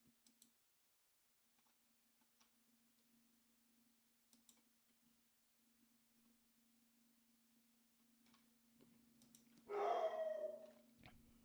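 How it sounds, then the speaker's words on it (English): A dog barks in the background in a burst of loud barks near the end, after a long stretch of near silence with faint clicks and a steady low hum. "that's my dog in the back"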